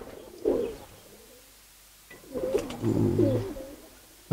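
Two bouts of low, throaty cooing from Giribaz pigeons, close by, separated by a quiet pause, with a faint background hum.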